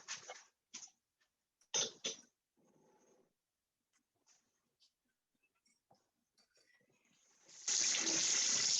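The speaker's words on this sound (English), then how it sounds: "I'm gonna let it run under cold water." Cold tap water runs over cooked tapioca boba pearls in a sieve: brief splashes and clatters early on, a quiet stretch with a faint cough, then a loud steady rush of water starting near the end.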